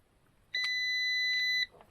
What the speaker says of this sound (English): it should beep, showing circuit continuity